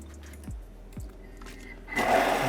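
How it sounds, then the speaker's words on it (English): A kitchen blender starts up to puree carrots, whirring loud and steady after a couple of soft clicks and bumps, running alone with no talk. "But so into the blender"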